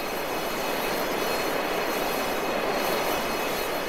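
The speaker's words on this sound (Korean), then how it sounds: "인계 속도에 달하면 조종간을 당기고 2000피트 이상으로 제트기는 상승한" A jet airliner takes off and climbs out from a long runway, its engines making a steady, loud, broadband roar that holds continuously throughout with no talking.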